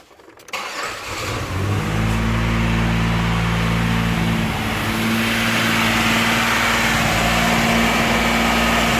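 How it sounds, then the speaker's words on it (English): A Chevy Impala with a mass air flow fault code cranks and fires up, then settles into a loud, steady idle with a deep rumbling hum close by. "let me start this thing up, let you guys hear it"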